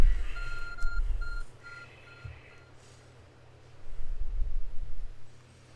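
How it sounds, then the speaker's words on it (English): A short run of four high electronic beeps from a glowing object in Pokémon Legends: Arceus, spaced evenly, over a low steady rumble that swells louder near the end. "There's a glowing, beeping object over there."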